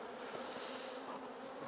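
Honey bees hum in a dense, steady drone at an open hive during a borage honey inspection in Norfolk, close and continuous with no voices.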